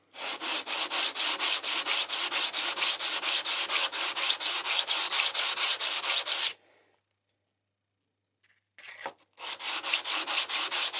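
Rhythmic back-and-forth rubbing of a Stanley No. 3 wood plane sole on abrasive paper laid over flat glass, steady close strokes for several seconds, a brief pause with small knocks, then the scraping strokes resume.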